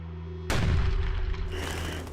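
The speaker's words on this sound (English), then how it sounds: "A cannon fires at the moment of Anne's death, ordered by Henry as a signal that the task was complete." A single cannon shot booms loudly and suddenly, followed by a deep rumbling decay that rolls on for over a second.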